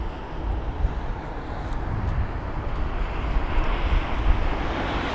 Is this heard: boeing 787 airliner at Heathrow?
yes